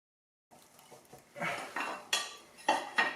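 Metal scraping and clanking as a glued-on oil pan is pried loose from a 2008 Chevy Cobalt during a turbocharger install, a series of sharp clanks and rattles building in loudness, close up, with no talk.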